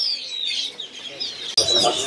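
Local East Java songbirds chirp and twitter from cages at a crowded Pramuka market bird kiosk, a busy overlapping chorus of high calls with a sharp burst near the end.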